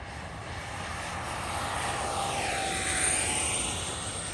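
A FlyFans twin 64mm EDF MiG-25 Foxbat model jet flies past, its ducted fans giving a steady loud whine with a Doppler-like pitch sweep as it passes near, with wind noise underneath.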